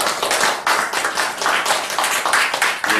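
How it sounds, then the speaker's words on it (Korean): A modest audience at an academic policy conference in Korea claps for the presenters and discussants, a short burst of fairly close, distinct handclaps with a slightly uneven rhythm. "박수 한번 주시기 바랍니다."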